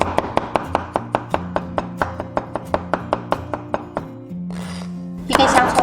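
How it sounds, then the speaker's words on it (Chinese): Rapid, even knife strokes on a cutting board as crushed garlic cloves are minced, a steady run of sharp close taps, then a brief scraping swish and a last flurry of chops. "切成蒜末"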